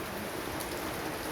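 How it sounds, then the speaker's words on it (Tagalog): Heavy rain pours down steadily, a dense continuous hiss of drops drumming on a hard surface close by, with no voices. "Napakalakas ang ulan."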